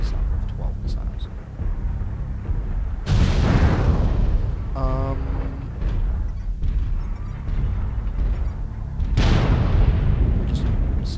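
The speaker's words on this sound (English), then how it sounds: "Because I've got them two of them grouped together, I fire a salvo of 12 missiles." An SRM6 missile salvo fired in the video game MechWarrior Online, heavy booming launches in two loud bursts with rumbling blasts between them, mixed under someone talking.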